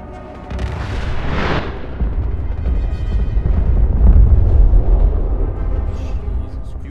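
Mini nukes from guns go off in the game Fallout 4, a string of loud, deep explosions with rumbling booms that swell and overlap, the heaviest blast roughly two-thirds of the way through, with no clear talk on top.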